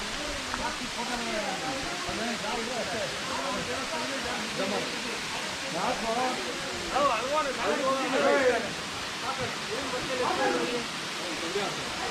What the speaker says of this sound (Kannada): ನೋಡಿ ಫಾಲ್ಸು, ನೀರು ಕಡಿಮೆ ಇದೆ.